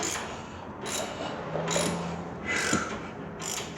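An open-ended wrench ratchets on a rear shock bolt of a Ford F150 truck, with a few separate clicking bursts spaced about a second apart and recorded close.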